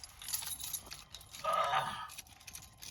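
A bunch of keys jingles and clinks nearby, with a brighter metallic rattle in the middle, fairly quiet.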